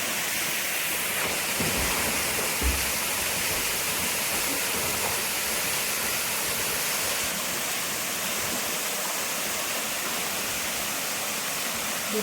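Konduro, the tallest waterfall in Sindhudurg, roars with a steady, loud broadband rush of falling water that stays constant and unbroken throughout, with no voices.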